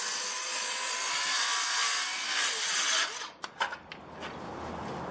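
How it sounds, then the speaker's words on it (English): BAUER cordless circular saw cutting a 2x4 framing stud, a loud, close, high whine for about three seconds, then the blade winds down with a few clunks. "We'll do a few cuts here on this standard 2x2 standard 2x4 framing stud here."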